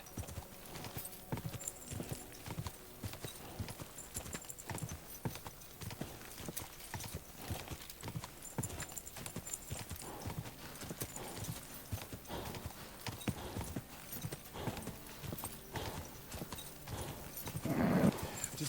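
Horse hooves clip-clopping at a steady riding pace on a path in Kingdom Come Deliverance 2, close and continuous, with a brief whinny near the end.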